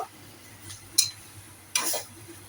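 A pinch of turmeric powder stirred into potol cooking on a high flame, heard as two quiet scraping strokes of a spoon against the pan over a low simmering background, with no voices.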